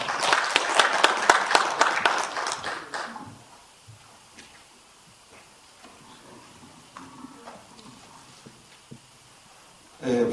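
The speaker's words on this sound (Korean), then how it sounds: "이의가 없으시니 힘찬 박수로 가결해 주시기 바랍니다" Applause breaks out at a party founding meeting, a burst of many hands clapping loudly for about three seconds before fading into quiet room noise, with a brief clap returning at the very end.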